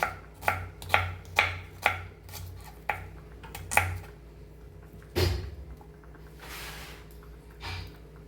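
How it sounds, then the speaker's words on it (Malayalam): Knife chopping onions on a cutting board, a run of sharp, evenly spaced close chops followed by a few scattered, louder strikes and a pause. "ഇതുപോലെ നമുക്ക് എല്ലാ സബോളയും കട്ട് ചെയ്തെടുക്കട്ടെ."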